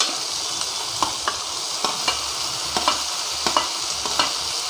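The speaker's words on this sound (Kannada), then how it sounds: "ಒಂದು 2 to 3 ಮಿನಿಟ್ಸ್ ಈ ಥರ ಸಾಫ್ಟಾಗೆಲ್ಲ ಹುರ್ಕೊಳ್ರಿ" Potato and peas for kurma fry in a pan with a steady, close sizzle, while a spoon scrapes and stirs at regular intervals; no one speaks.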